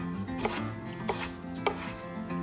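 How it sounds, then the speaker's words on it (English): A knife chops three medium potatoes into small cubes on a cutting board, giving a few distinct, evenly spaced knocks that stay fairly quiet, with no one talking. "Wash and cut into small cubes 3 medium potatoes."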